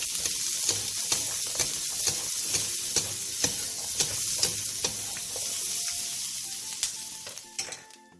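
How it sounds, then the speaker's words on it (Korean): Sausage pieces with paprika and onion stir-fried in a pan for a quick side dish give a loud, steady sizzle close up, broken by repeated spatula scrapes and taps, tapering off near the end. "소세지가 벌어졌으면 파프리카와 양파를 넣고 1분 정도 가볍게 더 볶아주세요."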